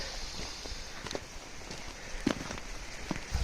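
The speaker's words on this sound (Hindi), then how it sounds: "बारिश हो रही है" Rain falls steadily in a mountain village high among the clouds, a constant hiss with scattered nearby drops and taps close by.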